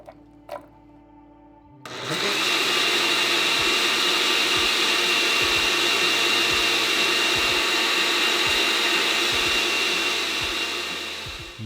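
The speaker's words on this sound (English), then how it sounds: "now it's time for the blender method" A blender starts abruptly after a short quiet moment and runs loud and steady, whirring through coconut pieces and water until the end.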